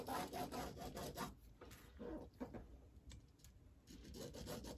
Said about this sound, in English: Draw your first sew line.